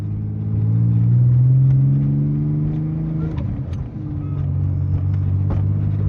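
A 1987 Pontiac Fiero drives along, its engine droning steadily and rising in pitch, then dropping briefly during a gear change before pulling again; loud, close, interior rumble with no talking.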